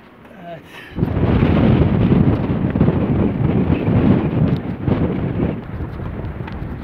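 Strong storm wind roars steadily and loudly around an anchored sailboat off Tenerife after a brief quiet start, buffeting hard with a rough, gusty rumble.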